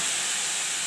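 Water splashed into chili, cumin and coriander powder frying in a hot pan sets off a loud, steady steam hiss that fills the whole moment with no break.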